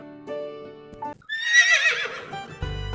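Horse neighing in a kids' cartoon: a loud, shrill whinny rising and wavering for about a second, framed by cheerful synthesized music before and after.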